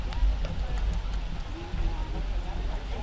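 Rain falls on an outdoor high school soccer field during a match, a soft steady patter blended with low wind rumble and distant play noise.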